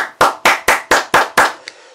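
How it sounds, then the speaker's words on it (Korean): Congregation at a church midweek worship service claps in unison, seven sharp rhythmic claps in quick succession followed by a faint trailing tap, with no talking. "하나님께 영광의 박수 올리겠습니다"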